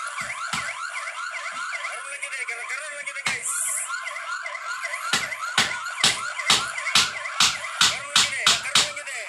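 A police car siren wails and yelps nearby at a shooting incident scene in the Philippines, looping warbling tones joined by sharp repeated blasts toward the end.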